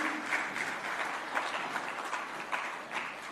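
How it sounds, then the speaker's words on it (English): A conference audience gives a sustained round of applause, a dense wash of many hands clapping at once, steady and moderately loud throughout with no talking. "a big round of applause to sir for that very stimulating address"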